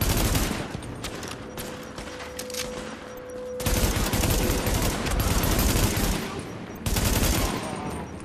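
In the video game The Division, rifle gunfire rattles in loud, continuous bursts, with dense rapid shots that briefly pause and resume several times.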